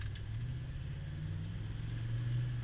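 A 1970s pickup truck with a 4-speed transmission drives along, its engine giving a steady low droning hum with a faint mechanical whine, quiet and continuous with no talking.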